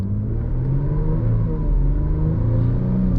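A 2018 Jaguar F-Pace 3.0 supercharged engine pulls steadily under acceleration, deep and rumbling, loud and close, with a continuous low growl and no talking.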